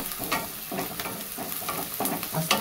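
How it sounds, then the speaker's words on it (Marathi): Ginger-garlic paste sautéing with onion in a hot pan, giving a close, steady sizzle with soft scraping stirs and occasional crackles, with no voices. "आता ह्याच्यातच अद्रक लसणाची पेस्ट टाकून घेते। दोन्ही पण एकदमच परतून निघते"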